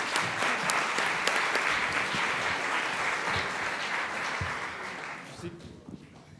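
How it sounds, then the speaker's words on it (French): Loud applause from the audience at the final of a French eloquence contest, dense clapping filling the hall for about five seconds before fading out into quiet. "sous un tonnerre d'applaudissements, nous avons Édouard Boutet"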